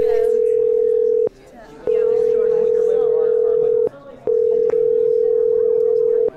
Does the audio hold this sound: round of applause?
no